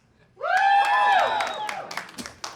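A loud, rising-and-falling whoop from a stand-up comedy audience at an LGBTQ+ comedy show, followed by a few scattered claps and crowd noise fading out.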